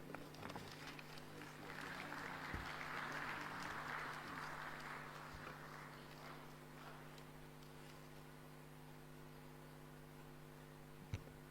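Applause from the audience at the IACO G25 Coffee Summit, a diffuse spread of clapping that swells early and then fades into a steady electrical hum in the hall.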